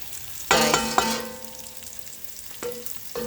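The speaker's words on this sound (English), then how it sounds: "I melt some butter, about 2 tablespoons. And then I have some diced onions here" Diced onions in about two tablespoons of melted butter, a soft sizzle with stirring clatters near the start and a couple of later scrapes of a utensil in the pan, close by with no talk.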